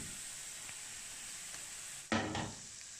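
Blended chili paste with garlic sizzles steadily in a hot pan, a soft constant hiss with a sudden louder burst of frying near the end, no voices.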